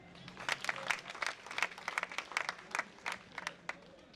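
Scattered applause from a small audience at a Special Olympics Côte d'Ivoire event, moderately faint, with irregular bursts of clapping rising and falling over a few seconds.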